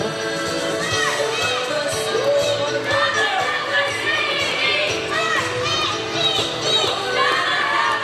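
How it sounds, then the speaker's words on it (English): Spirited crowd cheering rises at a roller derby game, a loud, sustained mix of shouts and high-pitched whoops from many voices at once. "Some spirited cheering in the crowd here."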